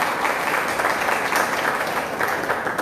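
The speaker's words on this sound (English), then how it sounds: "Please give them a round of applause." Sunday-service congregation applauding a couple's anniversary, a continuous burst of clapping close by that stays strong for a few seconds with small rises and dips.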